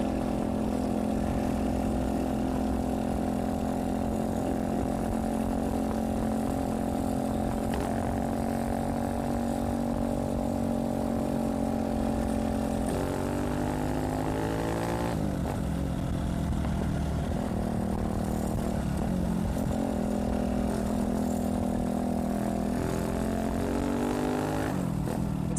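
A loud motorcycle engine running without an exhaust pipe drones close by on a mountain road ride in Costa Rica, its raw, buzzy pitch rising and falling as it revs through gear changes over a long stretch.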